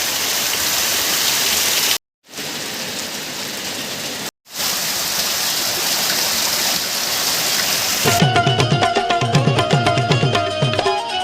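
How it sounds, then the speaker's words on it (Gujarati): Heavy downpour in Methala village, a dense steady hiss of rain on surfaces cut by two brief silent gaps, then joined near the end by a rhythmic tonal sound over the rain. "આજે અમારા મેથળા ગામની અંદર ધોધમાર વરસાદ પડી રહ્યો"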